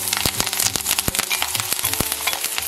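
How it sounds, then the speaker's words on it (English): Seasoning hits hot olive oil in a pan for Jamaican salt mackerel, setting off a close, loud, steady sizzle with sharp crackles and pops scattered throughout. "Once this heats up, I'm gonna go ahead and drop in my seasoning."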